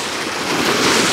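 Waves wash loudly over a rocky shoreline fishing spot, a close, hissing surge of water that swells toward the end, with wind mixed in and no talk.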